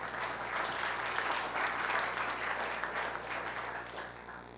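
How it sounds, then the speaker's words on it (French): Steady applause from a conference audience, many hands clapping continuously throughout, heard from a moderate distance. "Le seul applaudissement, c'est pour Steve Jobs."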